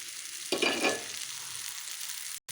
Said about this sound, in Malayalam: അപ്പോൾ നമുക്ക് ഈ ചിക്കൻ അതിലേക്ക് ഇടാം.